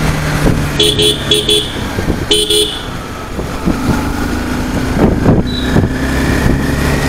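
Busy road traffic hums steadily while several short car horn toots sound in quick bursts, followed by passing vehicles and a distant honk.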